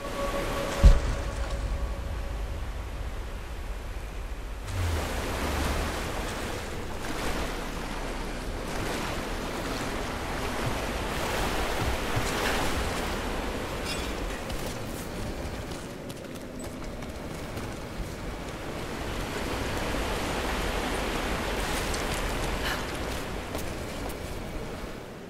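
Rushing, churning water floods a tomb in the video game Rise of the Tomb Raider, a steady broad wash with surging swells and a sharp knock near the start, no talk over it.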